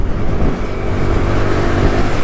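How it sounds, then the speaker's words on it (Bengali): A car drives past in the rain, its engine a loud, steady low rumble close by over a wash of road and rain noise, with no talk. "কিভাবে চালাচ্ছে গাড়ি দেখেছো"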